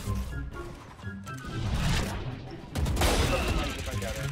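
Gunfire in the tactical shooter Valorant: a few fairly faint shots and short bursts heard under voices talking, with game noise swelling in the second half.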